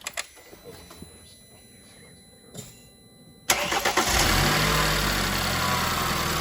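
A BMW F34 328i GT engine cranks and fires after quiet clicks and handling noises, then settles into a loud, steady idle close by, heard alone for the last few seconds.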